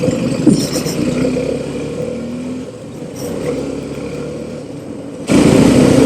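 City road traffic heard from a moving motorcycle on a Pune street, with a steady engine drone and passing vehicles, louder toward the end.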